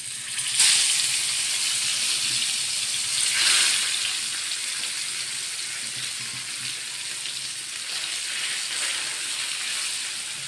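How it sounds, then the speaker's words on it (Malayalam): Fish fries in hot oil in a pan, giving a steady close sizzle with brief louder bursts of crackle near the start and again a few seconds later. "നമുക്ക് മീൻ വറുക്കാം അടുത്തത് കേട്ടോ"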